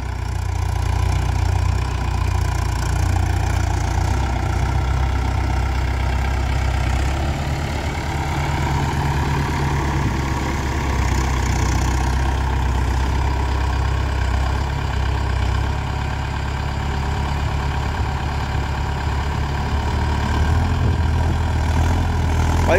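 A Mahindra Yuvo Tech Plus 575 DI tractor engine idles with a steady low diesel throb, close and continuous for over twenty seconds, the tone shifting slightly midway, with no talk.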